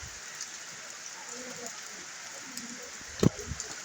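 Heavy rain in the Philippines, a steady broadband hiss of falling water with faint patters, fairly soft and distant, broken near the end by a brief louder knock and a few faint vocal sounds.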